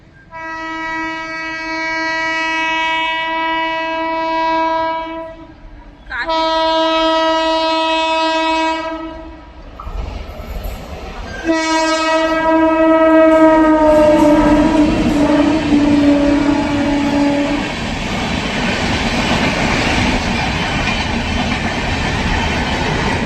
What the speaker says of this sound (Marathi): 2 नंबर प्लॅटफॉर्मवर ट्रेन येताना दिसत आहे